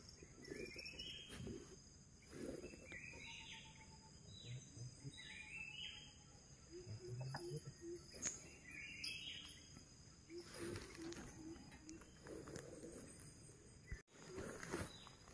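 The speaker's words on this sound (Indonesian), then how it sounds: "Suara burung." Forest riverside ambience with scattered bird calls and chirps at moderate distance, over a steady high insect drone.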